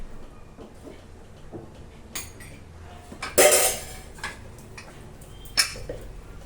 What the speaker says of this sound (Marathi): आता मी झाकण लावून कुकर गॅसवरती ठेवून देते.